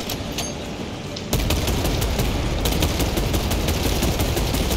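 Rapid automatic gunfire from the video game Warhammer 40K Space Marine 2, starting abruptly after a quieter ambient stretch and continuing as a dense, loud, sustained burst of shots.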